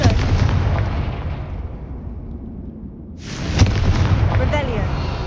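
A Confringo fire spell bursting in the Hogwarts Legacy video game, a loud, close explosive roar that rumbles and fades, then a second sharp blast erupts and keeps booming.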